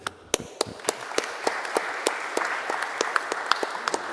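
Conference audience applauding at a chess and business strategy event, a scattered crowd of claps with a few sharp, distinct nearby hand claps standing out over the softer wash of applause.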